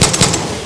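A quick burst of pistol shots in the video game Far Cry 6, two or three sharp, close reports in rapid succession within well under a second, with no speech over them.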